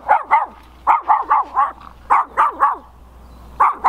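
A dog barks in quick bursts of sharp, nearby yaps, grouped in runs of three or four with short pauses between, loud and clear with no talking over it.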